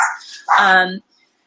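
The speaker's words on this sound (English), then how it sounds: "I'm so sorry my dog is starting to bark" A pet dog barks nearby, a single loud, drawn-out bark that follows a brief burst of human speech, then the room falls quiet.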